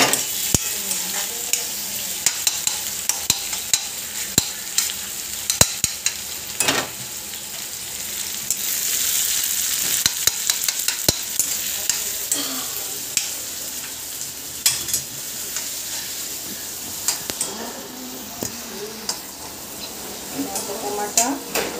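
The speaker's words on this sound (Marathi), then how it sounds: "टमाटा कसं परतवतो." Tomatoes sautéing in a pan as they are stirred, with a continuous sizzle and frequent sharp scrapes and clinks of a spoon against the pan throughout.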